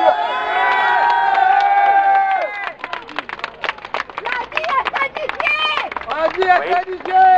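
A crowd at a healthcare workers' rally cheers with shouts and bursts of clapping, loud and close, with voices calling out throughout and the noise swelling again toward the end.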